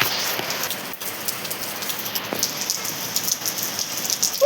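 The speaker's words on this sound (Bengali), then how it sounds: "বৃষ্টি পড়ছে" Steady rain falls on a rooftop, a close, continuous patter and hiss of drops striking hard surfaces, with a few brief louder splashes and no talking.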